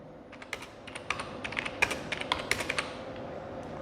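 Fingers tap an account number into a computer keyboard, a quick irregular run of light, close keystrokes with no talking.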